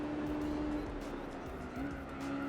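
Race car engine noise with tire squeal from Gran Turismo 4 on PS2, a steady drone with a brief squeal rising partway through, held at a moderate level throughout.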